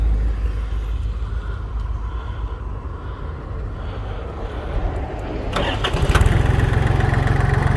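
The small diesel engine of a Yanmar F18D four-wheel-drive mini tractor with 733 engine hours cranks and catches near the end, settling into a loud, steady low rumble after a stretch of quieter background noise.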